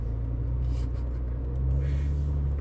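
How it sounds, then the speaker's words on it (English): A Maserati Ghibli S exhaust gives a steady, deep rumble close by, holding an even drone with a slight swell toward the end and no voices. "the exhaust in this car sounds like a Luciano Pavarotti"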